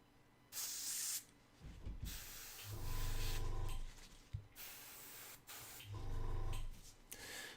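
An airbrush test-sprays Necromancer Cloak paint mixed with Army Painter thinner, giving several bursts of airy hiss, some with a lower buzzing tone from the compressor, separated by short pauses, nearby and without talk.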